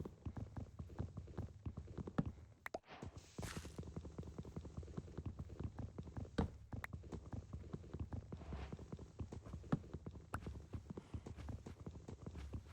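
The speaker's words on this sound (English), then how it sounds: "That horse is really loud." Minecraft horse hooves clop in a steady, uneven walking rhythm, close and fairly loud over a low background hum.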